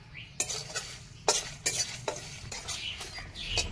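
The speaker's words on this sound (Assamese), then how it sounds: "এইফালে মছলাখিনি ধুনীয়াকৈ ভাজি ল'লোঁ।" Cumin, coriander seed and dried chili dry-roasting in a wok, with soft steady sizzle under repeated scraping and clinking stirs of a spatula against the metal, close by.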